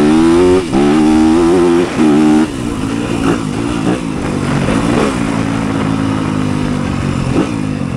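A 2023 Yamaha YZ250FX dirt bike rides close by on a trail at The Ridge Outdoor Resort, its engine revving hard with harmonic whine. The revs rise and fall through shifts, and the throttle eases off midway into a steady rougher drone.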